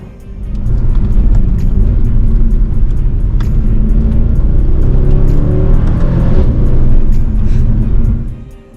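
A Mercedes-Benz C63 AMG Performance W204 engine gives a loud, sustained roar as it accelerates, heard up close and continuous for several seconds with no talking.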